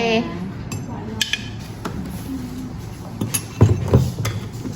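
Cocoa going into a cup behind a coffee shop counter brings a few light clinks and taps of spoon and cup, scattered and close, with a person talking quietly underneath.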